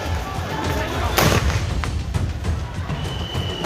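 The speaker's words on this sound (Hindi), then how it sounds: "टीवी स्क्रीन पर देखिए कैसे पुलिस वाले भीड़ को भगाने के लिए आंसू गैस के गोले छोड़" Tear gas shells are fired at a crowd: a sharp, loud blast-like report cuts through the noisy scene, followed by a second fainter pop, over a constant rumble of commotion.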